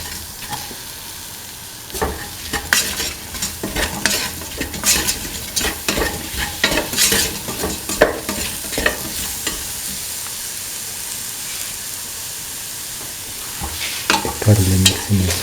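Salt and spices are stirred into an okra and chickpea stew made with coconut milk, with continuous close sizzling and busy scraping strokes that ease off and then return toward the end.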